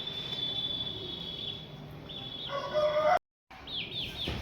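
Roosters at the Nakhas bird market in Lucknow crow and cluck in short bursts over a busy ambient hum, with a brief drop-out midway before more calling resumes.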